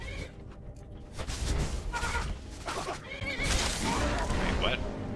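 Horse neighing in Skyrim, loud repeated whinnies with some hoof clatter, close up, mixed with game sounds and someone talking.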